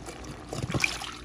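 Coconut milk is poured into a covered pot of simmering food, a brief close trickle and splash with soft liquid dribbling, heard alone without talk.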